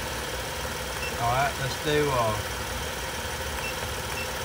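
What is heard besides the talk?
car engine idling at about 800 RPM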